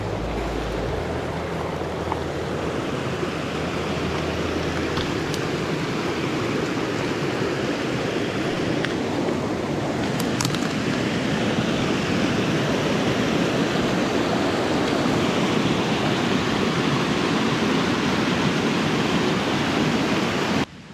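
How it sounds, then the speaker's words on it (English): Steady, full broadband roar of water falling at Tea Kettle Falls in Arkansas, a waterfall about 40 feet tall, continuous and close throughout with no voices. "Is there like a big waterfall?"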